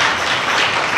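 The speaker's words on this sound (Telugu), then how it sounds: "అందరు ఒకసారి క్లాప్స్ కొట్టండి" Children clapping together at a Vacation Bible School session, a brief dense burst of many hands close by, loud and continuous.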